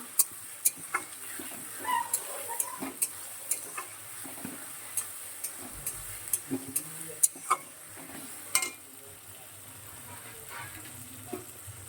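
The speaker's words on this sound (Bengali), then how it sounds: "পেঁয়াজটা খুব ভালো করে ভাজা হয়ে গেছে।" Onion fries in a pan while a utensil clicks against it in quick, fairly regular taps over a faint sizzle. The tapping stops toward the end, leaving a quieter background.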